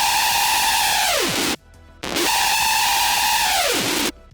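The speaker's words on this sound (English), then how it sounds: "A lot more screamy kind of screech." Two loud scream-like hardstyle screech synth notes built in Xfer Serum, each sustained with a harsh, noisy buzz, then bending sharply downward before cutting off, separated by a brief near-silent gap.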